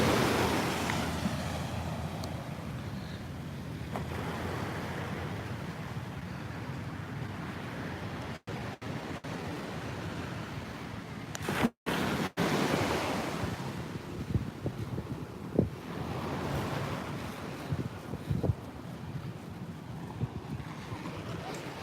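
Waves wash onto Patong Beach on Phuket's Andaman Sea coast at sunrise, a continuous surf roar that swells and recedes, with gusts of wind buffeting the microphone and a few abrupt dropouts.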